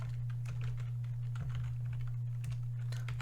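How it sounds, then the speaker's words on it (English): Steady rapid typing on a computer keyboard, a run of small irregular clicks over a constant low electrical hum, close and moderately quiet with no voices. "We have to actually type it in ourselves."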